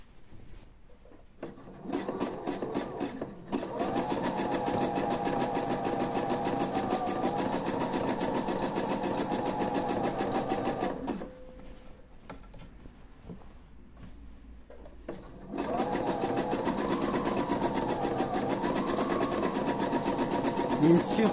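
A domestic sewing machine stitches elastic with a stretch stitch in two long close bursts of rapid mechanical whirring and clatter, separated by a quieter pause with a few handling clicks.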